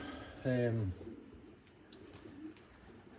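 A single loud pigeon coo, a short hollow rolling call, rises briefly near the microphone before fading into faint background murmur and quieter birds.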